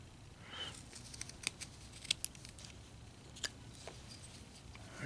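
A knife carving a small wooden figure, shaping a coat into the piece, gives sparse, sharp little scraping snicks and clicks, faint and close, with quiet pauses between cuts.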